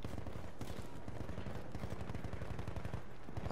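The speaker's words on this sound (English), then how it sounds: "I think there's someone up here. I'm hearing severe shots." Rapid gunfire from the video game Battlefield 1, a dense, continuous barrage of automatic shots and overlapping bursts that fills the whole stretch at steady loudness.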